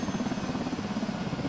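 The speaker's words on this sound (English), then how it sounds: "Is this thing gonna make a lot of noise? Should I turn off those rotors?" Helicopter rotors in a flight simulator set at Bilbao, a steady, loud droning whir with a continuous throbbing low hum, heard close and alone without talk.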